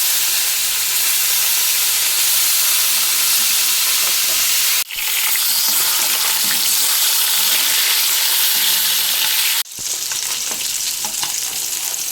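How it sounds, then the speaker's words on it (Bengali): Marinated rohu fish pieces frying in hot oil in a wok give a loud, steady sizzle that runs continuously, broken twice by brief dips, with no talking. "এখন আমরা মাছটাকে লাল করে ভেজে নেব।"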